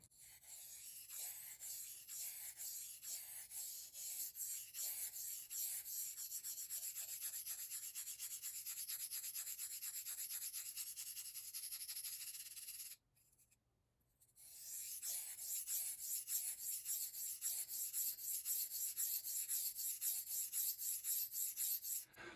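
A knife is stroked back and forth across a King KW65 waterstone thick with slurry, the blade wobbling slightly; a steady, continuous gritty rasp with rhythmic strokes, a brief pause partway, then the grinding resumes close and loud.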